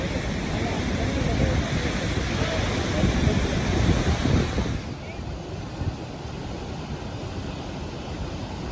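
Athirapally waterfall in Kerala roars as a loud, broad, continuous rush of falling water with heavy wind buffeting on the microphone, easing somewhat halfway through but remaining a constant wash throughout.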